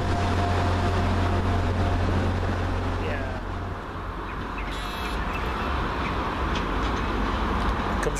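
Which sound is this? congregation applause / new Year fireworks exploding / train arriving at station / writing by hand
train arriving at station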